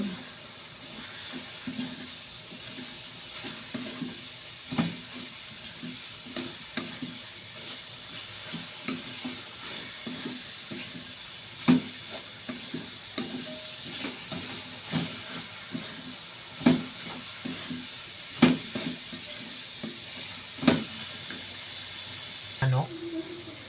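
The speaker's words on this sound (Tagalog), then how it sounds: "Yan, haluin na po natin." Chicken pastil sizzles and hisses steadily in a pan while being stirred, with periodic scraping clinks of the utensil against the pan and a voice speaking over it.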